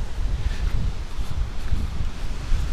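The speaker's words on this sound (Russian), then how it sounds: "ветруган тут" Strong wind buffets a microphone on the Black Sea shore, a steady low roar with gusty swells that fully covers any wave sound, close and loud with no talk.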